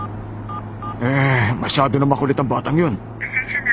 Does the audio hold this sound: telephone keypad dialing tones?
yes